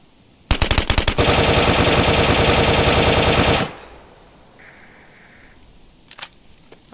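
Sustained automatic gunfire in an online shooter game while firing on opponents, a loud rapid burst lasting about three seconds, followed by quieter scattered shots.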